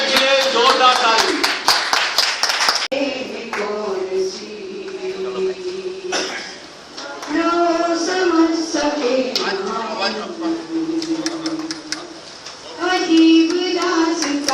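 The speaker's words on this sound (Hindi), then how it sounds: "लो से जोरदार ताली।" An audience at a senior citizens' day celebration breaks into bursts of loud clapping, dense and crisp at the start and again near the end, while a woman sings and people talk over it in between.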